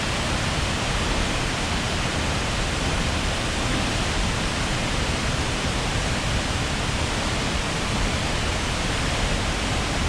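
Ozone Falls, a waterfall in Tennessee, roars in a heavy steady rush of falling water that fills the whole clip at close range, with no talking.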